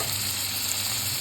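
Chopped capsicum fries in melted fat, giving a steady, dense close-up sizzle with no pauses and no voices.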